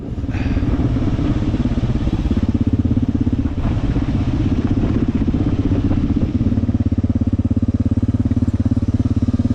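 Several motorcycles idle together by a mountain road in India, giving a steady, close, low engine chug with light mechanical clatter that holds throughout.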